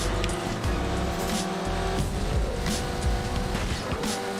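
Cars race and screech through a busy city street in a PS2 video game, with loud engine roars and tire squeals over continuous traffic noise.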